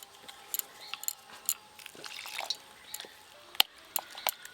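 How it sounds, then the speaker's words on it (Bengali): Water is added little by little to a cornflour, flour and salt batter for mochar chop and stirred in, making soft close drips, squishes and light clicks of the utensil against the bowl. "এবার আমি জল দেব, অল্প অল্প জল দেব আর মেশাতে থাকবো।"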